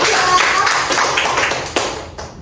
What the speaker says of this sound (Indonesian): Ya benar, tuh kasih tepuk tangan ya